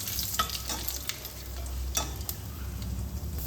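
A bay leaf, nigella seeds and dried chillies frying in hot oil, a faint steady sizzle broken by a few soft scraping stirs of a utensil in the pan.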